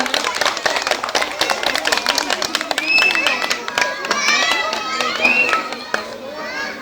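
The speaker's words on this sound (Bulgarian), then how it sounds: "Аплодисменти за децата от първа А група." At a kindergarten, an audience claps for young children after their first dance. The crisp, irregular claps run throughout while children's voices and crowd chatter sound close by.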